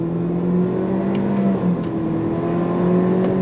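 A 2023 Honda Civic hatchback four-cylinder engine drones steadily under load in simulated first gear, its pitch holding fairly even while accelerating, close and continuous with a faint whir, no voices.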